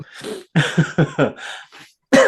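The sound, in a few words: cough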